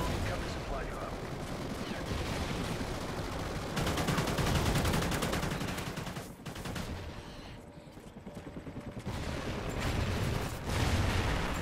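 Gunfire in Call of Duty Ghosts: rapid bursts of automatic rifle fire and single shots, loud and close, coming in clusters with brief pauses and occasional heavier blasts, with a voice talking over it at times.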